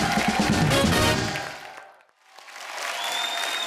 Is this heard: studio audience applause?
yes